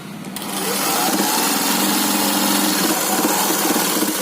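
Sewing machine stitching a half-inch seam on a pillow cover, starting up after a brief pause into a steady, loud, whirring motor drone with rapid needle chatter, close and unbroken, no talk.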